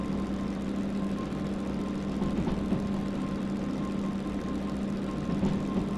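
A diesel locomotive engine in the Derail Valley train simulator runs steadily at around 1,000 RPM, a continuous low rumble that holds at an even level throughout.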